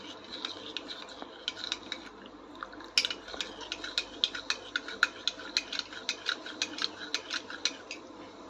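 A spoon stirs milk powder into milk in a pot for Kolkata-style mishti dahi, making quick, regular scraping clicks against the metal, close and fairly quiet, with no talking.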